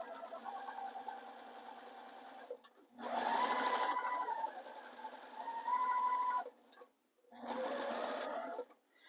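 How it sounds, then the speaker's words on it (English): A sewing machine stitches slowly along a line of raw-edge appliqué on a baby quilt, running in three separate bursts with short pauses between them, close and steady. "You really just have to go slow on this first line just so that everything is stitched where it needs to be."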